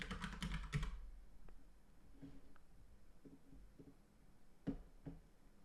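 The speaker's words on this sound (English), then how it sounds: "We're going to type EZRADIUS." Quiet typing on a computer keyboard, a quick flurry of keystrokes at the start followed by scattered single taps, soft and close.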